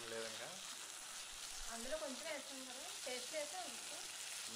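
Chicken being stirred through thick gravy in a hot pan gives a steady sizzle with soft scraping, while a voice speaks faintly underneath.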